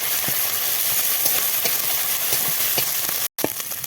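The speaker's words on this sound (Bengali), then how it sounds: "এই যে আদা বাটা রসুন বাটা এটা দিয়ে একটু কষিয়ে নেবো" Ginger and garlic paste sizzling as it fries in a pan for a spicy winter meat curry, a continuous close crackling hiss with small pops throughout, briefly cut off near the end.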